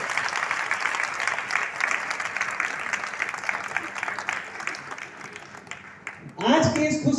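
A seated audience at a Brahma Kumaris stage programme in Naihati applauds as a speaker comes on stage, dense, sustained clapping that fades slightly before a louder burst of sound and a voice at the very end.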